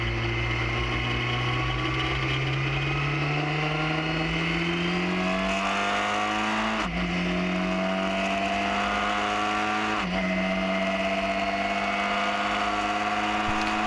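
A race car in a racing video game accelerates at Sonoma, a steady engine whine rising in pitch through the gears with two sharp drops at upshifts, loud and continuous throughout.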